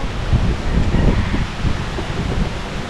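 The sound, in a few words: breezy wind outdoors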